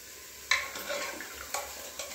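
Spices crackle and sizzle in hot mustard oil as a tempering for spinach dal, with a few sharp spits and stirring scrapes over a steady frying hiss.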